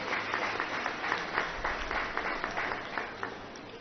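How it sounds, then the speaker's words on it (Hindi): An audience claps in welcome for the chief minister at a public government event, moderately loud, fairly steady clapping with slight swells, heard alone. "मैं चाहूंगा कि आप सब जोरदार तालियों से मुख्यमंत्री जी का स्वागत करें।"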